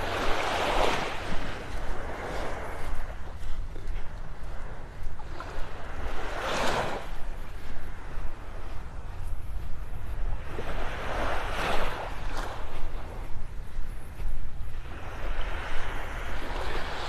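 Surf rolls onto Vanderbilt Beach in North Naples, Florida, in a steady wash with several louder breaking waves at intervals. Wind noise buffets the microphone, and there is no talk.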